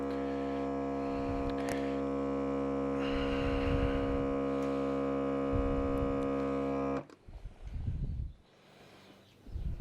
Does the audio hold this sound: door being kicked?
no